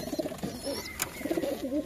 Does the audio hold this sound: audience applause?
no